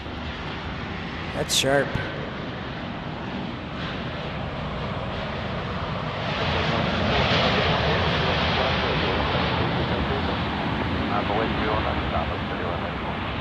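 Jet engines roar at Dallas Love Field amid stormy weather as Boeing 757s and a Poseidon move nearby, a broad sustained rumble that swells in the second half, with someone talking over it.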